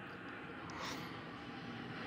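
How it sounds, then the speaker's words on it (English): A steady, droning roar of airplanes passing overhead at a zoo, constant and fairly loud throughout, with a faint rising whine partway through. "These noisy airplanes are driving me nuts."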